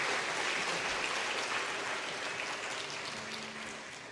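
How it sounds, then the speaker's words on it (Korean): Applause from a church congregation during a Sunday afternoon service as a deacon comes forward, a dense steady wash of clapping that fills the space and fades slightly at the end. "앞으로 나오실 때 큰 박수 보내주시기 바랍니다"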